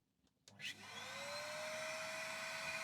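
A 1,000-watt vacuum cleaner powered from a solar generator clicks on and its motor whirs up to a steady, loud whine that holds to the end.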